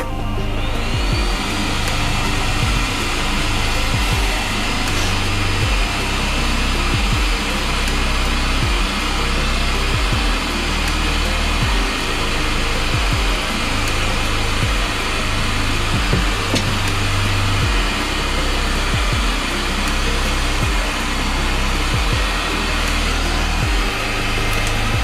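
Heat gun blowing hot air onto a 50-year-old Akai SW-35 speaker during restoration, a loud, steady whooshing roar with a constant motor whine, running unbroken and close for the whole stretch.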